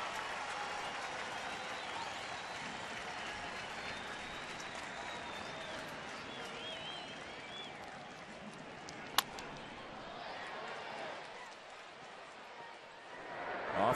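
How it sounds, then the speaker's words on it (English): A large crowd cheers and applauds at a baseball stadium during a Braves at Giants game in San Francisco, a steady wide roar that swells and fades slightly, with a sharp crack standing out partway through. "Now the crowd with some energy"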